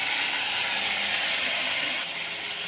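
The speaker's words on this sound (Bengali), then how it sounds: "আদা লঙ্কা বাটাটা দিয়ে আলুটা ভালো করে কষিয়ে নেব" Potatoes fry in hot oil with ginger and green chili paste, giving a loud, continuous close-up sizzle that eases slightly toward the end.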